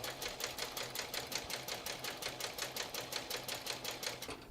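A sewing machine runs steadily basting fabric for a sling bag, its needle producing a fast, even rhythmic clatter of regular stitch pulses, close and alone, with no talk.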